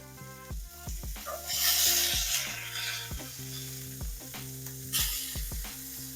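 Burger sliders sear in a hot pan, sizzling loudly and continuously, with the crackle swelling in bursts and no one talking.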